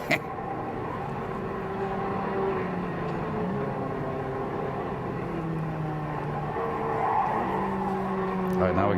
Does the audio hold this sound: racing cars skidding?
yes